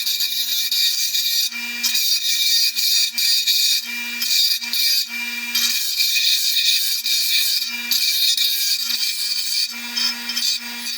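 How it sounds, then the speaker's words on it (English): An angle grinder radiusing the edge of a metal part during a 2002 Honda XR100R hour meter install: a continuous high, harsh grinding whine, close and loud, broken by brief pauses and repeated bursts as the tool is lifted and reapplied. "I'm just going to radius the edge using the grinder"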